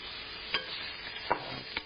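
Garlic sizzling softly in a thick wok, a steady low frying hiss broken by three brief scraping stirs of a spatula.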